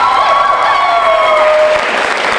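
A high school poetry slam crowd gives a poet another round of applause, a loud, continuous roar of clapping with some cheering and a thin whistle-like tone running through it.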